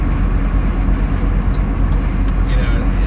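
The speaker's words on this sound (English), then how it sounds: "If you're some sounds from the car, hopefully just wind." Steady road noise from inside a moving car with about 264,829 miles on it, a broad constant rumble and hiss of tires and wind with no clear breaks.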